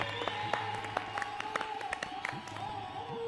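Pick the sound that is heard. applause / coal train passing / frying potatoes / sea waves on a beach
applause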